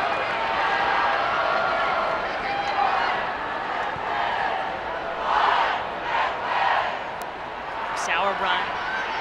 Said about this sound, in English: You can hear the crowd here at Providence Park.